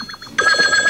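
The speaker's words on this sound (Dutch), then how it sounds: "Gaat mijn telefoon rinkelen." A telephone rings on a 2005 Dutch TV gossip quiz phone-in show, its loud electronic trill starting partway through and holding a steady tone to the end.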